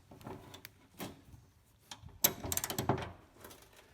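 A hand tool ratchets and turns a bolt on the rear hatch trim panel of a 2007–2008 Honda Fit/Jazz, the nut spinning with it, giving quiet irregular clicks and metallic grinding in short bursts.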